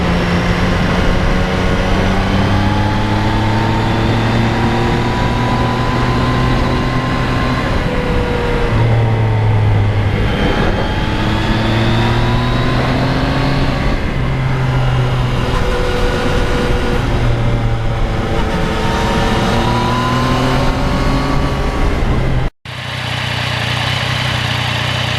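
A 2020 Yamaha MT-09 motorcycle engine runs loud and steady along a sweeping country road, its pitch rising and dropping repeatedly as it shifts through gears, with wind roar throughout and an abrupt cut near the end.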